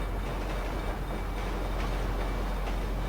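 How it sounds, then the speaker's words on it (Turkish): A train rumbles past nearby with a steady roaring noise and faint rhythmic clatter of wheels on rails. "Alt tarafı tren geçiyor."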